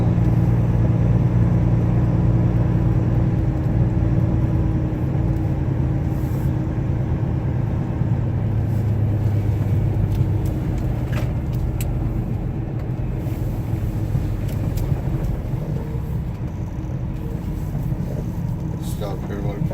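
A truck pulling an agricultural trailer rolls onto a weigh scale, its engine a steady, loud low rumble throughout with slight variations as it creeps forward.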